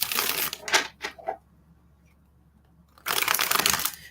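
A deck of tarot cards is shuffled by hand in quick, crisp riffling bursts, then goes quiet for a moment before another close, loud round of shuffling starts.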